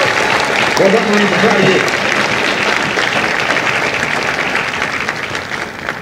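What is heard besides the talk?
round of applause for the drill instructors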